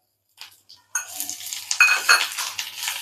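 Coconut stirred into roasted masala in a clay pot: after a few soft taps, a close scraping stir with light sizzling and utensil clatter runs on steadily, with no talking.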